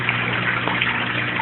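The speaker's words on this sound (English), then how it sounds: "You see this bell siphon is about ready to hit." An aquaponics bell siphon drains its grow bed, giving a steady close gushing rush of water that runs continuously through the short moment.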